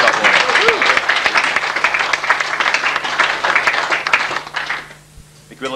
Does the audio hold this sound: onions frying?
no